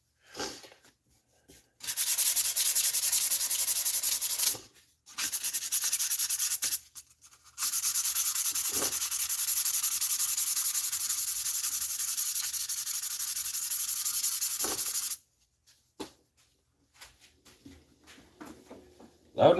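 Jatoba wood sanded on a lathe with 240-grit paper: a loud, hissing rub in long sustained bursts separated by brief pauses, with faint scraping in the gaps.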